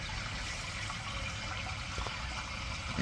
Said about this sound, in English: you can see and hear the water that's constantly running